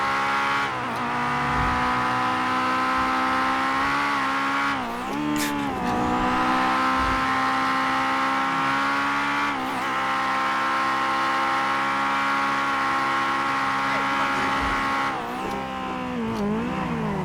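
A Honda S2000 engine revs hard in GTA 5, a loud sustained high-pitched wail with rising and falling pitch sweeps as gears change, plus brief tire squeal, with no talk over it.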